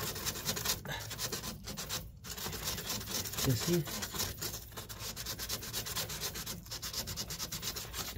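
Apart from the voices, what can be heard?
sanding by hand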